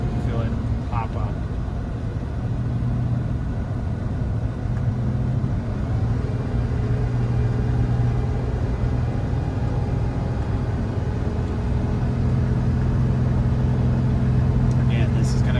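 A Jayco Seneca Super C RV's engine drones low and steady as the big rig climbs the winding mountain road of Monarch Pass, Colorado, a continuous rumble from inside the cab with a faint tick or two near the end.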